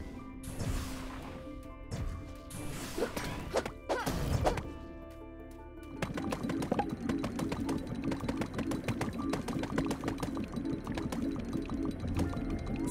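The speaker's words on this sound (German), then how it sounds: "Einfach mit dem Bohrer durch und aufsaugen." Video-game drill boring through debris, then a vacuum cleaner sucking up trash: harsh bursts and crashes early on, giving way to a steady whirring suction with rattling bits that continues loudly to the end.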